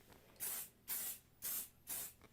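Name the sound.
grippy spray sprayed onto quilting ruler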